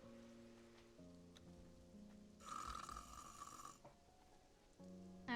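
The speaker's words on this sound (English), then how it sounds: "Oh, I hear snoring" Soft snoring breaths rise and fall in a quiet room, faint and intermittent, mixed with a brief noisy burst and tonal background sounds.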